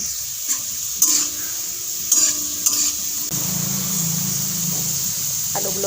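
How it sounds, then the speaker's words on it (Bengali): Potatoes frying in a pan for a coconut ghugni, a steady close sizzle with a few sharp clinks of stirring in the first seconds, the sizzle growing louder and fuller after a fresh addition. "আলুগুলো অল্প ভেজে নেব"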